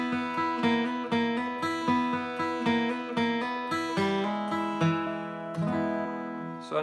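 A bluegrass guitar lick in E imitates a banjo with rapid, evenly picked rolling notes in a steady repeating pattern. It is close and clear, with ringing open strings.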